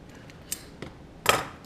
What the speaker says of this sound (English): This is where a good pair of leather scissors really come in handy.